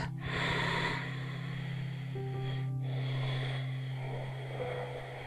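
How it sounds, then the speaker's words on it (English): Deep yoga breathing during a bedtime yoga session, slow inhales and exhales through both nostrils, soft and close, with a low steady hum underneath and no talking. "So, inhale and exhale. Now, both nostrils just to prepare the breath."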